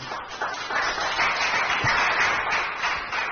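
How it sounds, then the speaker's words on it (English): Steady applause from a crowd at a groundbreaking event in Nigeria, a dense continuous wash of clapping that holds at an even level throughout. "Let's give a round of applause, please."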